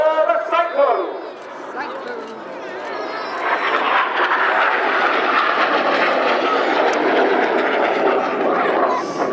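Red Arrows synchro pair jets turning hard at an air show, a loud sustained roar that swells and holds steady under a commentator's voice, with crowd noise in the background.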